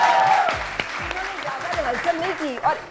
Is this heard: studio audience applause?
yes